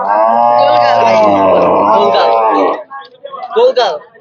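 A cow at a cattle market gives a long, loud, low moo, followed by a shorter lowing call, with crowd noise in the background.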